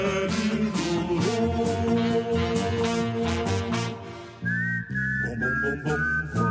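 A whistled march tune rises clearly over full, rhythmic military-style band music, with the bright whistle carrying the melody near the end.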